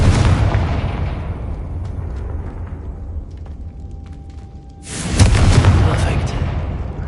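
A Confringo spell explosion in a Hogwarts video game: a loud booming blast that decays over several seconds, followed by a second heavy burst, with a voice heard over the noise.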